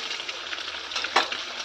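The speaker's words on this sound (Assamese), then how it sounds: "এইফালে মোৰ ডিমকেইটা অকণমান আধা সিজা হৈ গৈছিলে, অকণমান তেনেকৈ কেৰাহীত বহাই দিলোঁ।" Half-boiled eggs frying in oil in a wok (kerahi), a steady hissing sizzle with small crackling pops and one sharper spatter, close and continuous.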